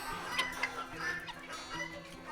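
Hatchery-raised chickens kept with two roosters cluck steadily and close by while they eat feed, a continuous busy flock chatter with no talking over it.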